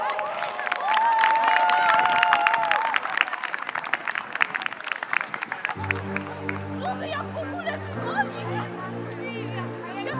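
A crowd applauds and cheers at a Hubertus hunting event, with steady clapping that holds for several seconds and then continues under music that comes in partway through.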